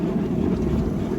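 Strong, gusty wind of around 29 knots while close-hauled sailing near the Isle of Man, heard as a dense, steady roar buffeting the microphone, with no voices.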